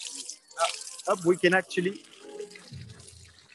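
Public drinking water fountain in Paris, pressed to release a running stream of water, heard close by as a steady splash under someone talking.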